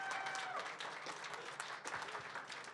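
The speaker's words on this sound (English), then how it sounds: "please, again, one extra round of applause for Burst" An audience at Awesome Games Done Quick 2026 applauds steadily, a dense wash of many hands clapping at full volume for nearly three seconds.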